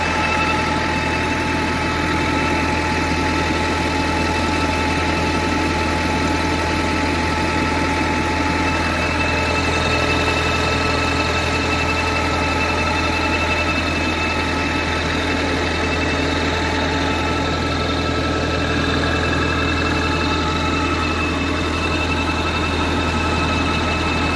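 A tractor's engine runs steadily as it drives a PTO generator, a loud continuous mechanical drone with a low throbbing idle and a whining hum that stays unchanged from start to finish.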